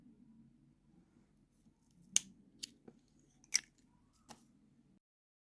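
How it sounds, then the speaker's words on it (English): Scissors snip brown yarn while making crochet gingerbread fingerless gloves, giving four or five crisp, close cuts spaced about a second apart over a faint low hum. "and then we can cut our brown yarn"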